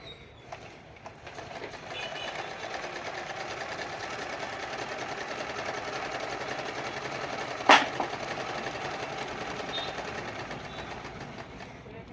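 A domestic sewing machine running a normal straight stitch: a steady, close mechanical whir with a rapid needle rhythm that continues throughout, broken by one brief sharp click near the end.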